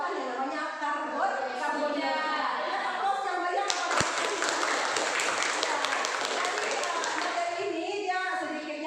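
Applause breaking out in a classroom: a burst of many hands clapping, dense and lively for several seconds, following and then fading under a teacher's voice speaking.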